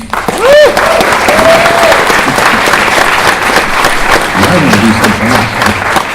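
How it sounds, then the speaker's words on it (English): An audience applauds Dr. Jack Horner at a Jurassic World community Q&A event, a loud sustained round of clapping from a crowd, with voices mixed in. "let's give Jack a round of applause"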